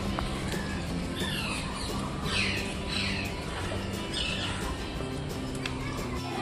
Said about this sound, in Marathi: हा राखाडी पोपट आहे,